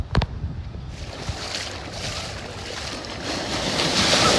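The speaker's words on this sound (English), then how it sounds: "the waves are actually pretty good" Ocean surf breaking on the shore at Honeymoon Island beach in Florida, a steady broadband wash that swells louder toward the end, with wind buffeting the microphone and a couple of brief thumps at the start.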